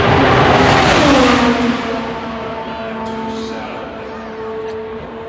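A Honda-powered IndyCar at full throttle during 2023 Indianapolis 500 qualifying screams past loud and close, its high engine note sliding down as it pulls away, with commentary talk underneath.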